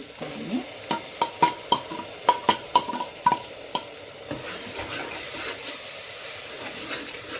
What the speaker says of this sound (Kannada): ಸ್ವಲ್ಪ ಹಸಿ ವಾಸನೆ ಹೋಗೋವರೆಗೂ ಚೆನ್ನಾಗಿ ಫ್ರೈ ಮಾಡ್ಕೊಳ್ಳಿ